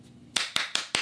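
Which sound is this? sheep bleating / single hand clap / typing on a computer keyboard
single hand clap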